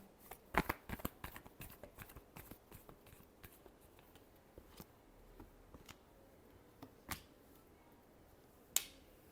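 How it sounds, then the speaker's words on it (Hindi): Tarot cards being shuffled in quick, crisp riffles and taps, a fast run of soft card snaps early on followed by sparser flicks and one sharp slap near the end, fairly faint with no talking. "Last shuffle."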